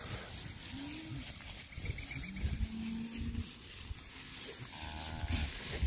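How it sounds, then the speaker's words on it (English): A herd of roughly three hundred cattle moves across pasture, with scattered low moos and bellows near and far over a soft field background, and no talking. "Cows are really looking good coming into winter."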